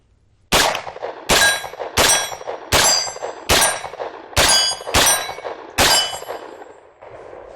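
Nine sharp, loud gunshots from a 9mm Extar EP9 pistol-caliber carbine firing 147 grain flat nose rounds, spaced roughly every 0.7 seconds, each with a ringing decay and no talking.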